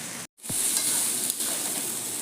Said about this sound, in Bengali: পেঁয়াজ আর আদা রসুন আমি ভালো করে ভাজি নিচ্ছি এখন লাল লাল করে